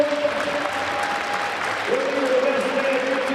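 A stadium crowd at the Drake Relays pole vault at Jordan Creek applauds a vaulter, a continuous wash of distant clapping beneath a commentator's voice.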